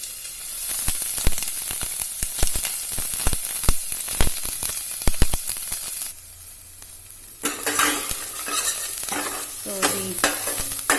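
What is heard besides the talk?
onion and garlic frying in oil in a pot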